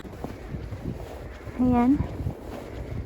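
Wind blows steadily during a snowstorm in Canada, a rough, gusty rumble buffeting the microphone throughout, while a person briefly speaks nearby.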